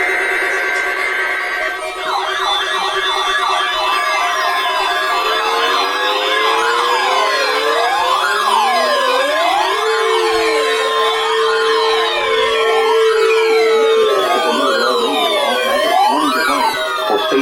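Several emergency sirens wail at once, overlapping rising and falling tones sounding loud and continuous throughout, with no talking.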